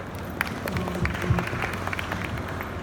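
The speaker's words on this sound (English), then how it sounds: "Please give the panel a warm welcome of applause" Moderate applause from a conference audience welcoming a panel at a robotics exhibition, scattered claps over a roomy background for a few seconds.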